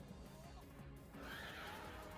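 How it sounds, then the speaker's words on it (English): Horse neighing in the Fire Emblem 6 video game, a short whinny heard over steady game background sound, with a person talking at the same time. "Peter, the horse is here"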